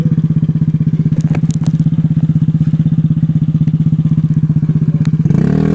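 A trail motorcycle on an off-road ride at Tanjungsari is pushed to full throttle, its engine a loud, steady, rapid-firing drone held for several seconds before it shifts pitch at the very end.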